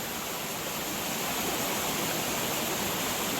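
A creek flows out of the mouth of Donaldson Cave on a spring hiking trail in Spring Mill State Park, giving a steady, loud, broadband rush of running water with no talking.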